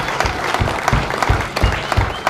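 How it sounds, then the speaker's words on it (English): A film premiere audience for Atonement: Redux breaks into loud applause, many hands clapping in a thick steady roar, with a few heavier, closer claps thumping through at a regular beat. "Round of applause. You're very kind."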